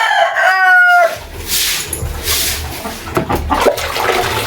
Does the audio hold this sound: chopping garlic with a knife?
no